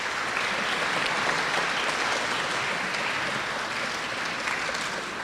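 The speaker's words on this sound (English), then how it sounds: "A brief moment of applause is welcome now for both candidates" Steady, dense applause from the audience at a chamber of commerce candidate forum, continuous and even from start to finish with no talking over it.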